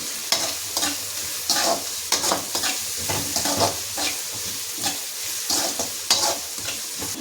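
Onions sautéing with salt in a pan for chicken kuzhambu give off a steady, close sizzle broken by repeated scraping and stirring strokes, with no talk.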